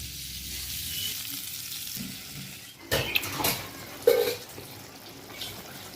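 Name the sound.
eggplant added to the pan and fried in oil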